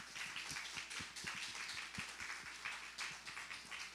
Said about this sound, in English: Just want to briefly give another round of applause